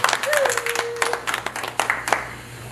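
Wedding guests at a ceremony in Houston, Texas, break into lively applause, a close, dense patter of hand claps that rises and falls over about three seconds, with voices mixed in.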